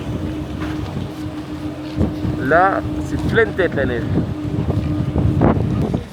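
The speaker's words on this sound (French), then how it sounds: "Il y a un max de vent" Strong wind buffets constantly at a snowy Alpe d'Huez ski slope in near-zero visibility, a heavy roaring rush under several people talking in French.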